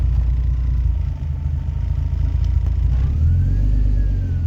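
A drift car's engine runs on a cold idle, a loud, close, unsteady low rumble with a faint whine that shifts in pitch partway through, heard alone without talking.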